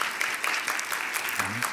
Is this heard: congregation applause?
yes